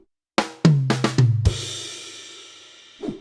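A short drum fill on a drum kit, a sticking pattern, gives five quick close strikes on snare and toms that end with a crash cymbal ringing out, then one final hit.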